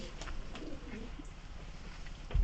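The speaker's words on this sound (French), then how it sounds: "Ah, c'est des pigeons." Pigeons coo softly inside an eerie abandoned mobile home, low murmuring calls over a steady background rumble, with a bump at the very end.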